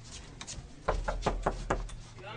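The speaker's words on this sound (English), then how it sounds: "Let me knock on his door." Several knocks land on a bedroom door in a quick uneven cluster, sharp and close, with a low hum in the background.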